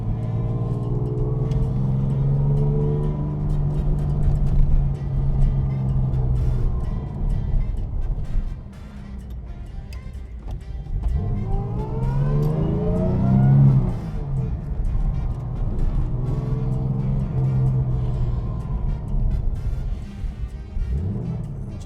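A 1962 Jaguar E-type 3.8 liter Series 1 coupe drives on New York streets, its engine droning steadily with two swelling rises in revs and a brief dip between, heard from inside the car without talk.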